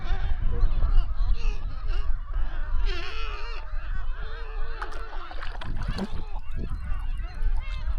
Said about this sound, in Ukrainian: Трохи розворушили птахів, але все нормально.